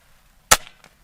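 A single sharp rifle shot cracks at an outdoor shooting range, sudden and loud, with a brief tail of echo afterward and near silence around it.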